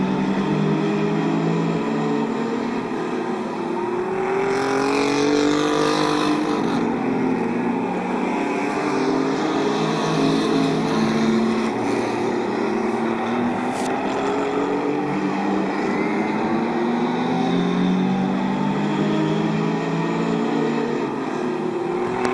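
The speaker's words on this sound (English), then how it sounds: "Martin and Garrett racing with the 117 of Large" Race cars circle the oval at Midvale Speedway, their engines droning steadily and loudly throughout, with pitch rising and falling as cars pass, and no talk over it.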